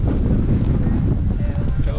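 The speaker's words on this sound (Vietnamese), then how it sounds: "Ở đây thì gió rất là gió luôn mọi người" Strong wind gusting hard across a microphone at a seaside pass near Quy Nhon, a dense low buffeting roar that fills the whole moment.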